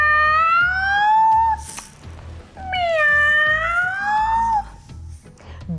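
Two large cats meow loudly in two long, drawn-out calls, each rising then falling, with a short gap between them and a low hum underneath.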